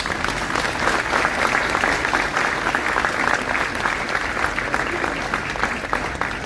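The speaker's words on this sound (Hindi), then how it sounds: "आप सबके लिए जोरदार तालियां दोस्तों" A hall audience at a business seminar in Pune claps vigorously and continuously, a thick, even wash of applause from a large crowd.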